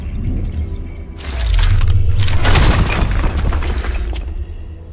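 A breakable wall is punched through in Deus Ex: Human Revolution, a loud crashing burst with booming rumble and crumbling debris that swells after a second and then trails off, heard alone.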